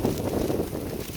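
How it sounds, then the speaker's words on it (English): Wind blowing outdoors in the open while foraging for morel mushrooms, a steady low rushing roar that fills the whole moment without letting up. "the wind's picking up"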